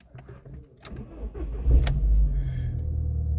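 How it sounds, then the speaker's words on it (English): An Audi or Volkswagen car engine cranks briefly and catches, settling into a steady close idle rumble, after a few clicks and small handling noises. "Good, start the car."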